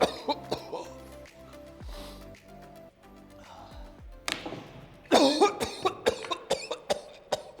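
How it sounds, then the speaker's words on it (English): A man in a prison setting coughs in a quick series of sharp, close bursts, with brief talk and quiet room sound between them. "It's just a bit of a cough."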